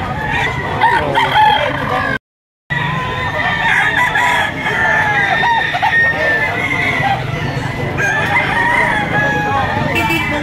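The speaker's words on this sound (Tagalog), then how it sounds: "Napakadaming manok." Roosters crowing repeatedly with clucking hens at a busy chicken market in Lipa, Batangas, loud and close, with voices murmuring underneath and one brief dropout.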